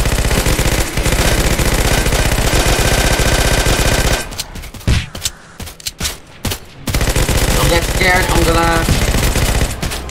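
A heavy machine gun in the Roblox game Zombie Uprising fires long rapid automatic bursts, loud and close, broken by a short stretch of scattered single shots before sustained firing resumes.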